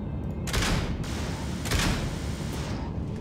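Small explosion effects going off in a modded Freelancer space combat game, two broadband bursts about a second apart over a steady dense rumble of game noise, no talk.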